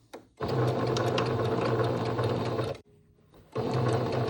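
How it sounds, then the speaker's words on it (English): A sewing machine stitches elastic shirring into fabric, running in a fast, steady whir for about two seconds, stopping briefly, then starting again, close by and with no talk. "And you just sew straight as normal."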